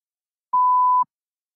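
A single clean electronic beep from a speaking test, steady in pitch and lasting about half a second, alone against silence.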